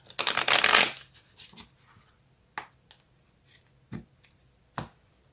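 A deck of tarot cards is riffled in a quick, loud shuffle near the start, followed by several sharp, separate card snaps and taps spaced over the next few seconds, close and without talk.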